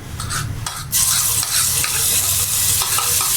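Onion paste stirred with a spoon into sizzling chicken kofta masala in a pan: a loud, steady frying hiss with scraping stir strokes, no talking.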